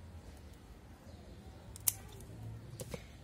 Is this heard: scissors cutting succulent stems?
yes